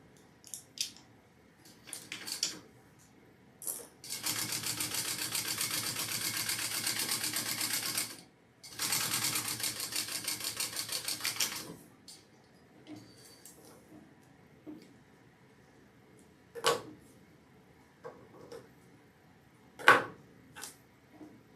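A sewing machine top stitching a fabric bag runs in two sustained bursts of rapid, even needle chatter, close and fairly quiet, followed by scattered handling clicks and rustles of fabric.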